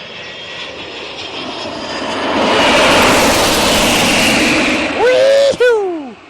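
A jet engine roars up into a broad, steady rushing whine that builds and holds loud, then breaks off near the end into falling tonal sweeps, with voices talking quietly underneath.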